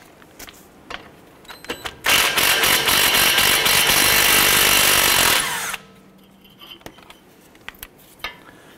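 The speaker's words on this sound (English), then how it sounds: "we're gonna use a 12 millimeter socket and we're going to remove this bolt here holding our brake flex line" Power tool driving a 12 mm socket to remove the brake flex line bolt on a 2009-2015 Honda Pilot front strut, a loud continuous whir lasting about three seconds, with faint metallic clinks before and after.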